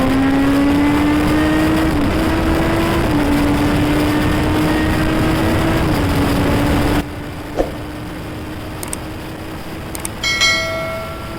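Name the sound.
Kawasaki Z900 motorcycle exhaust sound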